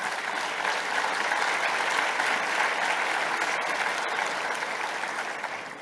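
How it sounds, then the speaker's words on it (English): Sustained audience applause at the ACF 2024 closing ceremony, a dense, loud, even clapping from a large crowd that holds steady across the whole stretch and tapers slightly at the end. "You deserve a round of applause."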